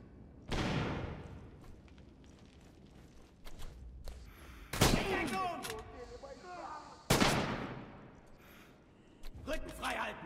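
A grenade goes off in the Red Orchestra 2 war game with a sharp, loud blast and ringing decay. Two more heavy explosions follow amid battlefield din and shouted voices.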